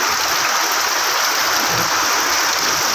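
Heavy rain pours at a cricket ground, a loud, dense and steady hiss of falling water close by, with no talking.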